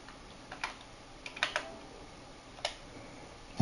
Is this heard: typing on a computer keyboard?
yes